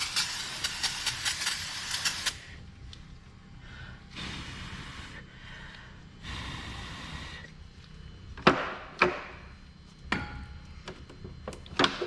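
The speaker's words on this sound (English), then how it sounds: "come in here with some brake clean. Clean up all this motor oil." Brake cleaner hisses from a spray can in several long and short bursts over the motor-oil-soiled engine of a 2015 Jeep Cherokee during an oil change, broken up by sharp clicks and clanks from work close by.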